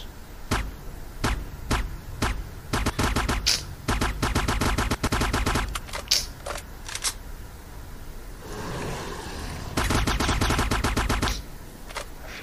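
Gunfire in the game Z.O.N.A Project X: sharp single shots followed by rapid automatic bursts, a short pause with rustling, then another fast volley, loud and close.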